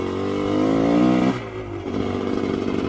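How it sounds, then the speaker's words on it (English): A dirt bike engine revs hard and loud up close while warming up, rising and climbing through one long rev, then dropping sharply and settling into a rough, throbbing, lower-pitched run. "I don't let my bike idle, so this is how I warm it up."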